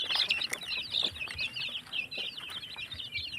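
Many small high-pitched peeps of chicks chatter continuously, close by, with soft rustling and scratching in the background.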